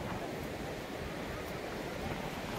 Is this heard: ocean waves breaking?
yes